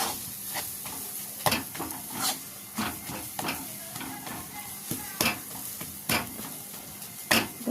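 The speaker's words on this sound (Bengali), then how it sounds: "এইভাবে ভালো করে নাড়াচাড়া করে ভেজে নিতে হবে" Green pea filling with cumin powder fried and stirred in a pan for kochuri: soft sizzling under repeated scraping strokes of a spatula, quiet and close.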